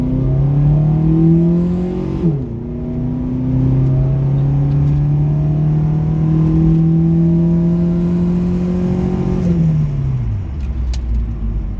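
A stock 1996 Nissan 240SX engine at full throttle, rising steadily in pitch, with two gear shifts dropping the revs before it climbs again. Loud and close, with no talk.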